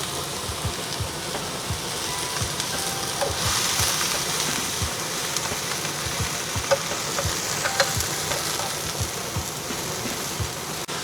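Cabbage frying in a pan and being stirred for a beef rice bowl: a continuous dense sizzle with regular low scraping strokes and occasional clicks, close and steady throughout, with no voices.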